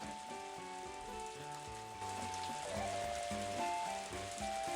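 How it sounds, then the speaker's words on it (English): Steady rain patters in the video game Story of Seasons: A Wonderful Life, a soft continuous hiss beneath a gentle melodic game music loop, with no voices. "Well, it's raining."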